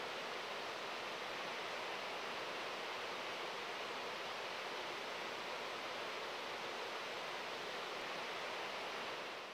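A long waterfall and brook in Western Massachusetts, tumbling through hemlock forest partly under ice, make a steady, even rush of falling water that stays constant and fairly soft throughout.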